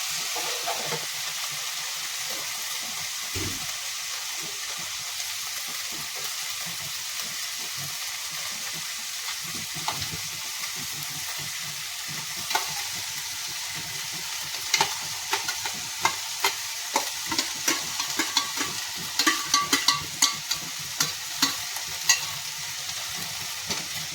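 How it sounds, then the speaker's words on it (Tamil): Curd is sautéed and stirred in a pan while cooking coriander and mint rice, giving a steady soft sizzle and frying hiss with scraping spoon strokes that grow more frequent and distinct toward the end. "தயிர் சேர்த்துட்டு நம்ம கொஞ்சம் வதக்கலாம்"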